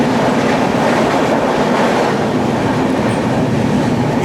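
Kannur–Alappuzha Executive Express, train 2872, rolling past loud and close, a dense steady roar of wheels and carriages with faint rhythmic clatter, no voices.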